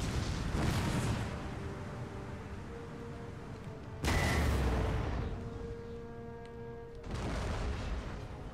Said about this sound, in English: all my guns going off these demi cannons now,